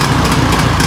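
A motorcycle engine idles loud and close in a repair-shop setting, a steady low rumble with rapid even firing pulses and no break over a short stretch.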